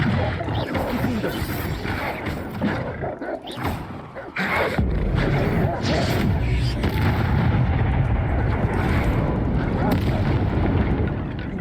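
Confringo blasting spell explosions from the Hogwarts Legacy game roar in as a loud, sustained crashing blast with rumbling booms, following an earlier burst and a short lull.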